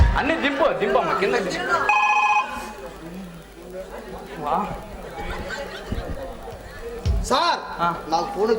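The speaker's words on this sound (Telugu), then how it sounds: "సార్ నాకు ఫోన్ వచ్చింది సార్." A telephone rings with a bright electronic warble during an outdoor village drama performance, moderately close and partly masked by people talking and commotion around it.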